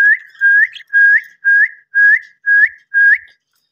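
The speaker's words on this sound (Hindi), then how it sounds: "दोस्तों मैं इनको जिस तरह सीटी बजाता हूँ तो ये मुझे जवाब भी देते हैं" A person whistles to pet Australian parrots, seven identical short rising whistles in an even rhythm, close, loud and clear against silence, with no talk.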